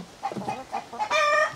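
Several short clucking calls from native free-range chickens on a small Cebu farm in quick succession, close by, followed by a longer, louder squawk.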